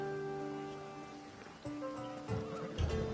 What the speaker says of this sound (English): It's a very nice horse. A sturdy horse. It's also a stolen horse.